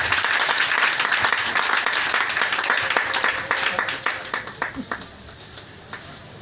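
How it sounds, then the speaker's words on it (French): Church congregation applauding together, dense sustained clapping that thins out into scattered claps toward the end, with voices mixed in. "Acclame-moi Jésus"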